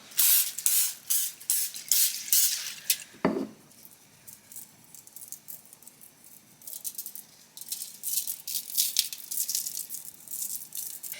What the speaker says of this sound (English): I spray them with a little bit of olive oil spray